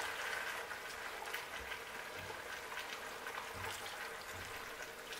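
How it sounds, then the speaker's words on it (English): Water is poured into a pot of Niger Delta-style banga soup, a faint, steady splashing hiss with a soft bubbling undertone throughout. "Add water"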